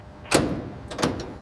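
A truck trailer door closes for sealing at a loading dock, giving two separate loud bangs about 0.7 seconds apart with some rattle trailing after each impact.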